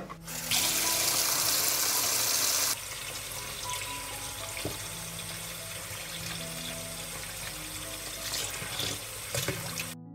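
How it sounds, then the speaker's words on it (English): Fresh blackberries are washed under a running kitchen tap, and the water hisses and splashes steadily into the sink close up, loudest at the start and then settling into an even flow for the rest, with no talking. "I'll wash them first."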